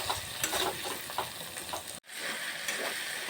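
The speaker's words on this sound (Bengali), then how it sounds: "কষে নেব ভালো করে।" Tomato stir-fried in a pan for aloo dum, no onion or garlic, giving a steady close sizzle with soft scraping stirs, a brief dropout near the middle, then frying resumes.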